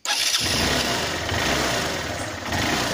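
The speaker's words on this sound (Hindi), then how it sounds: "तो देख सकते हैं इंजन स्टार्ट हो गया" Fitted with a new spark plug, an engine fires up almost at once and settles into a steady, close running sound that holds for the rest of the clip.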